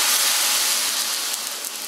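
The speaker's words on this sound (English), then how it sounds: "That steams right up beautifully." Narragansett lager poured into a hot pan of mussels and sauce gives a loud, steady steaming hiss that holds for the whole stretch, close up and without speech.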